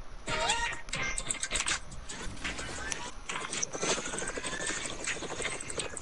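A helicopter flies in a video game, its steady rotor whir and engine noise running throughout over clattery game effects and speech.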